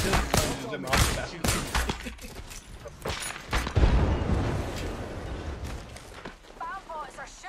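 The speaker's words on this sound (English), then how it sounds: "Bad boys are shooting at me." Bursts of rapid gunfire and booming blasts break out in a shooter video game while a player talks excitedly over the action.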